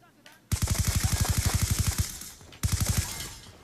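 Rapid automatic gunfire from the video game Call of Duty Black Ops 2 plays in two loud, close bursts, a long one followed by a short one, with no talk over it.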